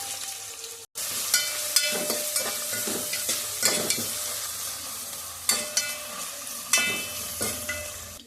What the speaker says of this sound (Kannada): ಈರುಳ್ಳಿ ಹಾಕೊಂಡು ಸ್ವಲ್ಪ ಬ್ರೌನ್ ಬಣ್ಣ ಬರೋವರೆಗೂ ಹುರ್ಕೋಬೇಕು